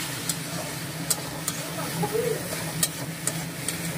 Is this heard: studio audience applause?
no